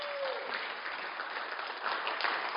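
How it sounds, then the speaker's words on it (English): Audience at a global summit breaks into steady, dense applause, an even wash of clapping that holds for the whole stretch without any voices over it. "Give him a round of applause."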